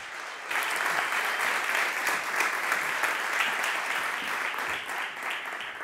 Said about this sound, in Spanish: vamos a recibirle con un fuerte aplauso y empezamos